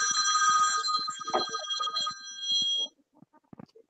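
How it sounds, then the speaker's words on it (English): A telephone rings for an incoming call, a continuous bright electronic trill lasting about three seconds before cutting off, leaving only faint soft clicks and room noise. "I got a phone call."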